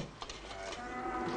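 Cow mooing in an Algerian rural setting, one drawn-out low moo lasting the whole moment, close and fairly loud, with no talk over it.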